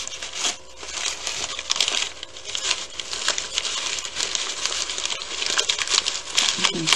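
Continuous close-up crinkling and scrunching of dry, rustling material being shaped into an Easter candy bird's nest, a busy crackly texture that goes on steadily without pause.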